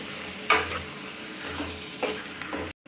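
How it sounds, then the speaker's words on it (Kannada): Tomatoes tipped into a hot frying pan over already-fried onions sizzle steadily, with a few louder scrapes and stirs of the spatula at intervals; no one speaks. "ಇವಾಗ ನಾನು ಟೊಮೊಟೊ ಹಾಕಿದ್ದೀನಿ"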